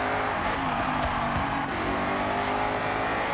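Ford Mustang racing in the video game Forza Horizon 6, a loud sustained engine roar at high revs, close and steady throughout with slight pitch shifts as it accelerates.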